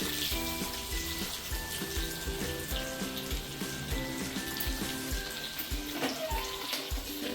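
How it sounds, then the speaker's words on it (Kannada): Onion frying in hot oil in a tempering for Andhra-style pappu saaru, a steady close sizzle with crackling throughout. "ಸ್ವಲ್ಪ ಫ್ರೈ ಆಗಲಿ ಈರುಳ್ಳಿ."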